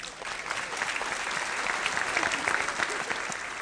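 Audience applause at a televised Kannada couples' game show round, a steady burst of clapping from a crowd lasting a few seconds, moderately loud and alone without talk.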